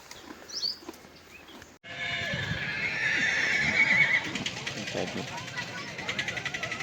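Horses neigh loudly at a horse race, with repeated whinnies alongside the clip-clop of hooves and a busy outdoor background where people are talking.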